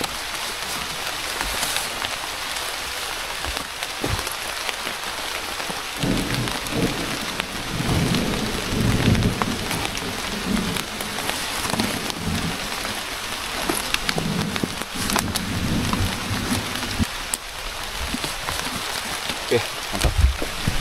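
Steady rain falls throughout a mountain hike through mossy forest on Gede Pangrango via Selabintana, a dense continuous hiss with occasional heavier patter and low rumbles, while people talk faintly underneath.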